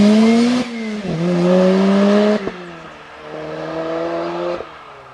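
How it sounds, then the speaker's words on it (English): A Lotus Exige with a Toyota 2ZZ engine revving hard through several gear changes, the loud engine note climbing, dropping sharply at each shift, then climbing again, heard close with no talk. "here's the sound of the Lotus"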